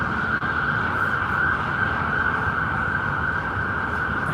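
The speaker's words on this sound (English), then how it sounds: "Here comes the ambulance." A continuous ambulance siren holds a steady wail over low traffic rumble, loud and unbroken throughout, with no talking.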